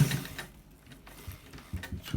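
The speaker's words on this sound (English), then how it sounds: "So we are stitching it from this down part" Sewing machine stitching a single front welt pocket on a garment, a quiet uneven mechanical ticking and whirring in short bursts, fairly close and without talk.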